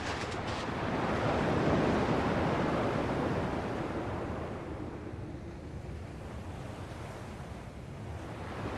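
Ocean waves in Kingdom Hearts II Final Mix crash and wash in a broad roar, swelling loudly then easing into a softer, steady surf.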